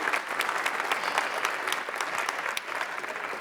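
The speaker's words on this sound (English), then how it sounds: "So give them a round of applause," At a school computer science week kickoff, a crowd of students and guests applauds loudly, with sharp individual claps standing out from the steady roar. The clapping runs the full length without voices.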